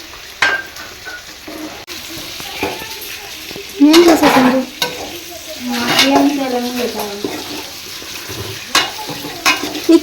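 Mangalore sardines frying in a pan at home, a loud steady sizzle with bursts of spattering and stirring, close up, while people talk intermittently in the background.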